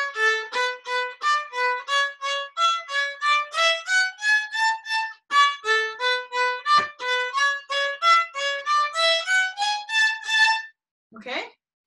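A violin plays the Perpetual Motion passage twice in a row, a bright run of quick, evenly detached bowed notes that climbs and falls, heard close and alone, ending with a short scrape.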